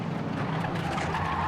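Renault Clio Cup race cars at Spa make contact in a close pack, heard as a loud, continuous roar of engines with tire scrubbing and skidding.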